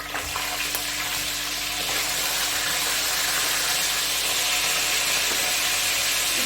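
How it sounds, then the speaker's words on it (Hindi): Cumin seeds sizzle in hot oil in a kadhai, giving a loud, continuous frying hiss that stays steady throughout, with no voices. "अब कढ़ाई में मैंने ऑयल डाल दिया, इसमें मैं डालूंगी जीरा"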